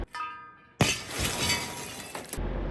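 A glass roof panel taken from a Toyota Camry shatters in one sudden loud crash, then a dense spray of crackling, tinkling fragments falls for over a second before cutting off.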